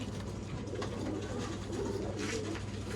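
Pigeons coo in a steady, close, low murmur for the whole moment, several birds overlapping against a constant hum of background noise, with no voices.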